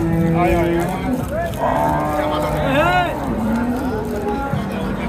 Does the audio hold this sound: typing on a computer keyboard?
no